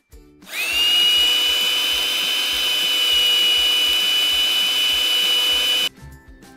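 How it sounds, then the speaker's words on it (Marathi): A kitchen mixer grinder powders roasted spices with a loud, steady high-pitched whine that starts abruptly, holds for about five seconds and then cuts off, near and alone. "थंड झालेला मसाला आपण एका मिक्सरच्या भांड्यात घेऊन त्याची बारीक पावडर करून घेऊया"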